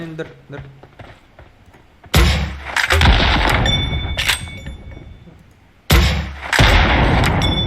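Thrown bomb in the mobile battle royale game PUBG Mobile: two loud sudden blasts a few seconds apart, each with a long rumbling tail, after quieter game sounds and talking.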